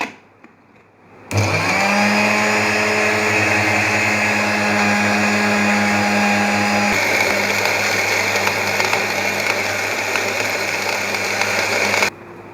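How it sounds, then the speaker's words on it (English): A kitchen blender crushes watermelon with ice, lemon pulp, white salt and black salt, switching on abruptly into a loud steady whine that shifts pitch midway as the contents break down, then cuts off sharply after about eleven seconds. "Now crush it in blender."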